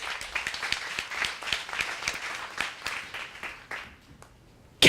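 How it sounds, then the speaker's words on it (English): Applause from a modest audience at a networking evening on women in top management, with individual claps distinct, tapering off and stopping near the end. "Let's give her a round of applause for that."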